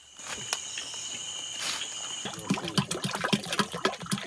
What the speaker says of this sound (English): The monotonous chirps of happy crickets punctuate the silence of the wet night